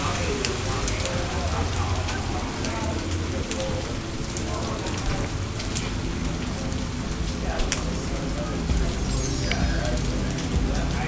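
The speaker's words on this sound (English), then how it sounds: "Well, looks like we're gonna get a little rain here. There you go, there's some rain. And hail." Rain and hail pour down steadily outdoors, a dense close wash of drumming on surfaces lasting throughout, with a few sharper impacts and faint talk mixed underneath.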